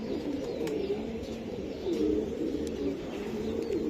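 Pigeons of fancy breeds such as Budapest, Pakistani and Madrasi cooing softly at close range, low repeated throaty coos in a quiet space.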